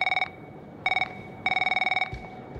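Electronic telephone in an office ringing in three bright trilling bursts with short gaps, fairly close, in the horror video game House of Ashes.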